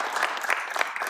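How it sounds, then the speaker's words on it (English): Brief round of applause from a conference audience for a keynote speaker at a quantum competition's grand finals, moderately loud and uneven with a few stronger claps. "So let's thank for the speaker once again with a round of applause"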